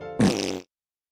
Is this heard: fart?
yes